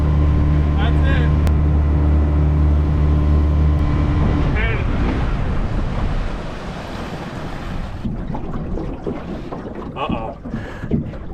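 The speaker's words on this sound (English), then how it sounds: "That motor just died on us." A cheap knockoff Yamaha outboard motor on a boat drones loud and steady over water and wind, then cuts out about four seconds in, leaving wind, waves and people talking.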